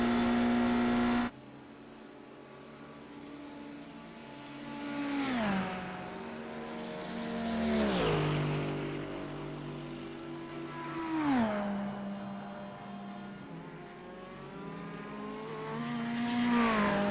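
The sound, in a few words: race car engine scraping noise at Le Mans, video game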